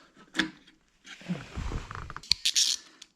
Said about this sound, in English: You just got to remove a couple of screws from this protection plate here